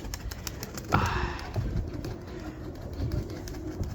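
Pigeons kept for training coo softly at a distance, with a louder burst of wing flutter or movement near the start, under outdoor background noise.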